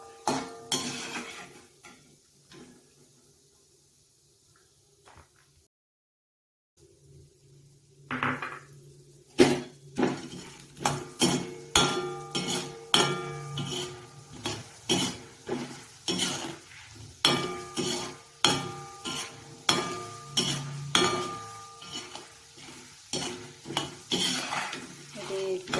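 Poha mixture is scooped from a pan onto a plate in a home kitchen, a steel spoon scraping and clinking against dishes in irregular close taps after a brief quiet stretch.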